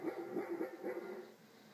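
A dog at home gives a quick series of close, muffled barks and yips, several short bursts in under two seconds.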